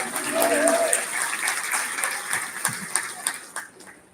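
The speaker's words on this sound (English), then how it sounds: "let's give Jacob and Coco a big round of applause" Audience applause at a cattle show, a broad wash of clapping that swells early and then thins into scattered claps, with some voices mixed in underneath.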